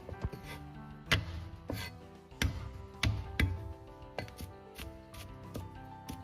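A chef's cleaver slaps down on ginger and garlic to crush them on a cutting board, producing several sharp, irregularly spaced thwacks with short wooden ringing between them, close and alone.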